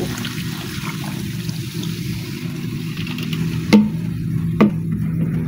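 Sprite soda poured over raw chicken feet in a bowl for adobo, a steady fizzy trickle with soft stirring and two brief knocks near the end.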